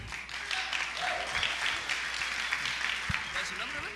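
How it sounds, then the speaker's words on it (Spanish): A church congregation claps for a brother, a brief burst of applause from a modest group with voices talking over and around the clapping. "un aplauso para el hermano."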